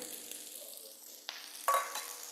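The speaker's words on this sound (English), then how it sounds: "The pan is hot, so therefore I put the torch on top, adding the onions, celery," Onions and celery for a mirepoix hitting a hot pan, giving a quiet close sizzle with a sharper burst as the vegetables drop in near the end.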